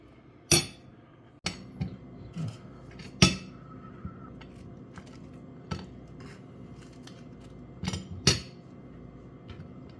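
Metal cutlery scrapes and clinks against a plate as food is mixed around, with several sharp, irregular knocks and clatters between quieter scraping, close and clear with no talking.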